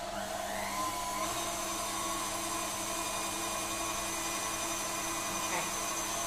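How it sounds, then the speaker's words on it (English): A steady, continuous motor whir from an electric whisk beating marshmallow mixture toward soft peaks, running evenly at close range with no pauses and no talking over it. "And we're just going to whisk this until it reaches soft peak."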